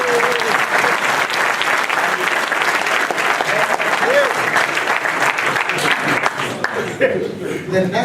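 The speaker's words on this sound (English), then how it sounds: "all of us, a round of applause that the thief is gone" A large audience in the Donald Gordon Auditorium breaks into sustained, loud applause, a dense wash of clapping that holds steady for several seconds, with scattered voices and a few chuckles mixed in before it thins slightly near the end.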